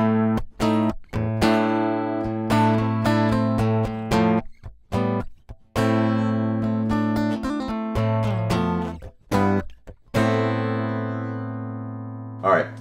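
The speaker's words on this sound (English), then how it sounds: "I've got a dry guitar that I recorded" A dry, direct electric guitar recorded straight into a Firebox interface with no effects, playing a clean melodic phrase of sustained and picked notes with brief gaps, close and clear throughout.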